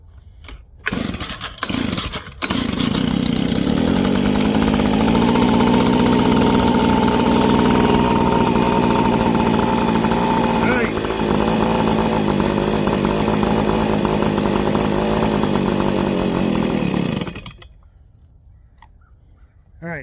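A Stihl handheld blower engine with an aftermarket fuel system kit runs loudly and steadily near the mic for about fifteen seconds. It then cuts down to a quieter, rough idle.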